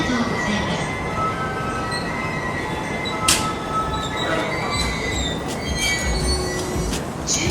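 A Tokyo metro train rolls along the track with a continuous rumble and high wheel squeal. Faint clicks and brief metallic accents rise and fall over the steady noise.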